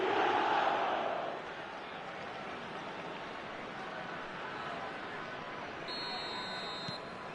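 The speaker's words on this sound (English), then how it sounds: "The crowd are calling for this to be put to bed." A football video game stadium crowd gives a loud chanting roar at first, then settles into a steady, dense background wash under commentary.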